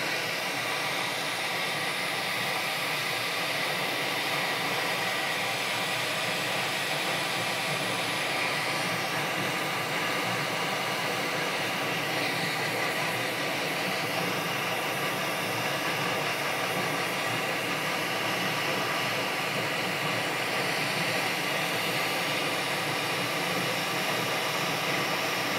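A hot air rework station blows steadily over a PlayStation circuit board while an HDMI port is being removed, a constant even hiss with no breaks, close up and without talk.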